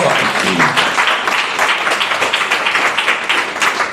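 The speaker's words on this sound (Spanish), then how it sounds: "Eso, dale un fuerte aplauso." A church congregation breaks into loud, sustained applause, a dense wash of clapping that holds steady throughout with no gaps.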